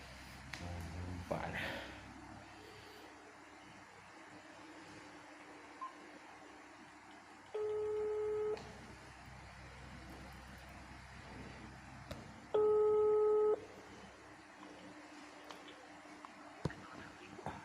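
Phone dialing and ringing tones: two steady electronic rings, each about a second long and several seconds apart, come through over faint background murmur and soft speech.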